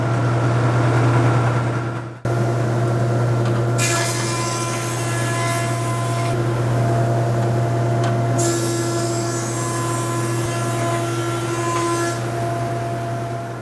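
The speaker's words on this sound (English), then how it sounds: "Have a listen to the no-load sound of the motor." Close by, a Jet JP20 20-inch planer motor runs with no load after a sharp start, giving a steady whining hum with a strong low drone and bright high overtones.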